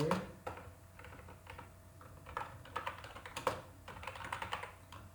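Computer keyboard clattering as code is typed, irregular bursts of close, crisp keystrokes with short pauses between them.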